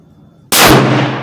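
A single sharp, loud rifle shot from a Ruger American Go Wild in .308 firing a 150 grain round at a target, sudden and close, with a decaying echo after a quiet lead-in.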